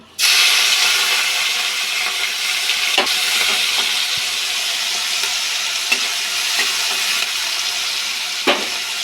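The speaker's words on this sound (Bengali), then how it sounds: "তেল গরম হয়ে গেছে, এখন আমি মাছটিকে ছেড়ে দেব।" Prawns coated in salt and turmeric fry in hot oil, a steady loud sizzle and hiss running throughout with a few sharper pops and crackles, no voices.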